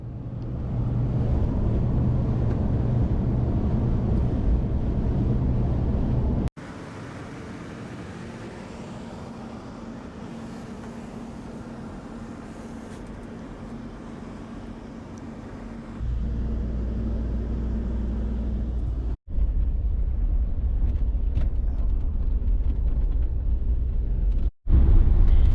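Inside a capsule sleeper bus traveling from Los Angeles to San Francisco, a steady low engine and road rumble fills the cabin for nearly half a minute, with abrupt shifts in level and tone as the ride continues.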